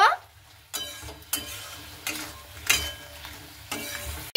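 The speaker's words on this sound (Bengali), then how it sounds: "এবার সিমটাকে দিয়ে আলুটাকে দিয়ে খুব ভালো মতো করে একটু নাড়াচাড়া করে নেব।" A spatula scrapes and clatters as broad beans and potatoes are stirred in a pan, with repeated sharp strokes over a soft frying hiss.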